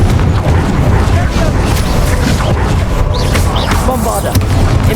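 Booming spell blast of the Confringo curse in Hogwarts Legacy, a loud crashing explosion with rumbling low end, surrounded by game effects and brief voice.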